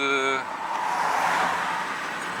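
A Honda CR-V drives on a rough, badly surfaced road after leaving a fuel station, giving a steady broadband rumble of tyres and cabin noise, with a brief voice at the very start.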